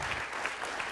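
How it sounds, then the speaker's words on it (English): A short, faint wash of audience applause at a Harvard evening forum, welcoming newcomers to the university community, including first-year graduate students. It is steady and distant, with no voices. "So how about a round of applause for our newcomers to our Harvard community?"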